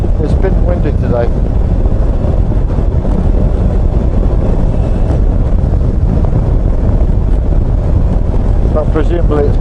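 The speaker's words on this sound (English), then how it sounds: "It's been windy today." Heavy wind buffets the microphone in continuous low rumbling gusts while riding a Suzuki V-Strom 1000 motorcycle, with a voice speaking faintly underneath at moments.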